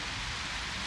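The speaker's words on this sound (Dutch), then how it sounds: "Het heeft gisteren de hele dag geregend. En nu druppelt het nog." Faint, steady patter of water dripping from trees after a full day of rain at a zoo park, a soft continuous hiss of drops under open air.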